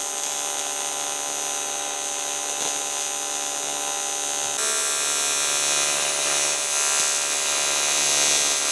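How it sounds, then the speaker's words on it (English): Welding tabs back onto a Mitsubishi Evo 8 car radiator in a shop gives a steady, close, harsh electric buzz and crackle that runs unbroken for the whole stretch, with no talking. "get everything fully welded up"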